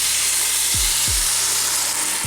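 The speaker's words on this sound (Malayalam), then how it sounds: "ഈ തിളച്ച വെള്ളം ഇതിലേക്ക് ഒഴിച്ചു കൊടുക്കാം." Boiling water poured into rice frying in a pan for egg biryani sets off a steady, close sizzling hiss, with two soft low thumps early on.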